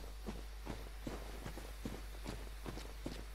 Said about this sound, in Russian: Так, слышу топот.